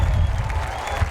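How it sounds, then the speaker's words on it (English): A crowd at an air show at Pocono Raceway applauds and cheers as parachutists land, a steady wash of clapping and crowd noise heard from within the audience. "Below, the crowd cheering as they parachute in."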